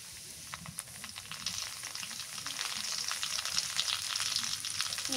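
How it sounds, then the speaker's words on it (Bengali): Turmeric powder frying in oil over browned onions in a pan, a close, continuous crackling sizzle with fine pops that grows gradually louder and denser. "হলুদের গুঁড়াটা তেলের মধ্যে ভাজলে"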